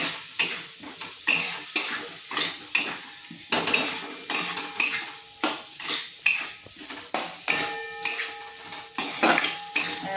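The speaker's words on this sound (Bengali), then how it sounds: "আলুগুলো দিয়ে একটু আমি আবার কষিয়ে নিচ্ছি" Potatoes being stirred and sautéed with spices in a pan: a steady rhythm of spatula scrapes and metallic clacks against the pan every half second or so, over a light sizzle, close up with no talking.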